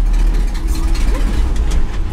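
A 1965 Ford F350 tow truck's engine rumbles loud and close while driving, a steady low drone from inside the cab.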